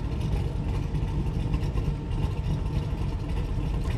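A 1963 Corvette Split Window Sting Ray engine runs with a deep, steady rumble, heard loud and close without any talk.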